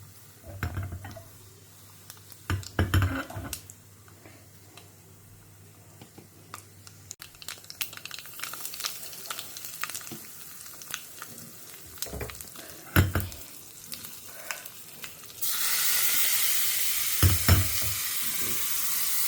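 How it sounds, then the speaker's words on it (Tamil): Mustard seeds and urad dal sizzle and crackle in hot tempering oil for a South Indian buttermilk kootu, with intermittent sharp pops and stirring clatter, the frying hiss swelling louder toward the end. "உளுத்தம்பருப்பு செவக்க ஆரம்பிச்சுட்டு கடுகு போட்டுக்கிறேன்"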